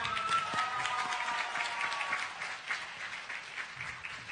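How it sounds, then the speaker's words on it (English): A crowd at a youth excellence recognition ceremony gives a sustained round of applause for Chu Nam, dense steady clapping that holds at an even level throughout. "Can I give one more big round of applause for Chu Nam?"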